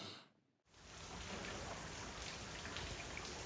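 Steady rain falls during a bike tour in Italy, a dense, even hiss of drops starting abruptly after a brief quiet moment and continuing loud and close throughout, with no voices.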